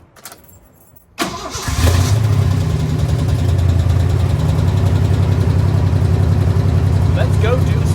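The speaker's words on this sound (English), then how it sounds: "So I figure that the best way to let this truck speak for itself, let's turn it on and have a listen." A 1989 Ford Ranger pickup's engine cranks and catches after about a second of near silence, then settles into a loud, steady, close-up idle with a low, even rumble that holds to the end.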